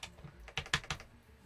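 A few quick, close keystrokes on an Ajazz AK873 TKL mechanical keyboard, known for spring ping: light irregular clacks heard alone at a quiet level.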